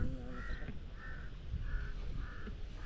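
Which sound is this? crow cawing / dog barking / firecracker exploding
crow cawing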